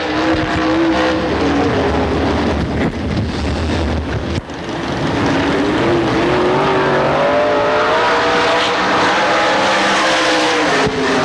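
A 1997 dirt track race car on a qualifying lap, its engine screaming loud and close, pitch rising and falling through the corners with a brief dip partway, wind buffeting over the roar.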